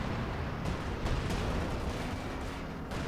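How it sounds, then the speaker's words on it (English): A tactical-support artillery barrage in Company of Heroes 2 rolls on as a continuous rumbling roar, with scattered sharper blasts breaking through the dense wash of shell impacts. "it calls down a bunch of artillery shells that hurt armor and infantry"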